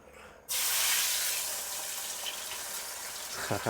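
Chicken kabab pieces are lowered into hot oil and set off an abrupt, loud hissing sizzle that fades slowly into steady bubbling frying, close up with no talking.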